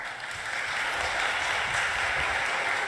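Audience applause at an Oxford debate fills the hall as a steady, dense wash of clapping that holds at an even level for about three seconds, with no clear voices over it.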